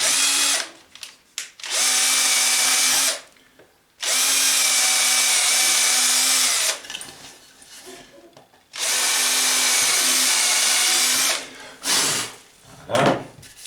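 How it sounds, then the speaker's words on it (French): Power drill boring pilot holes in wood for a Layens beehive floor: three long, loud, steady whirring runs close by, split by short pauses with small handling knocks and no speech. "Je finis les avant-trous."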